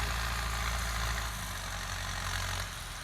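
A Ford 7740 farm tractor, a 105-horsepower model, sits idling with a steady low diesel rumble and throbbing engine note that runs unbroken and close by, with no voices over it.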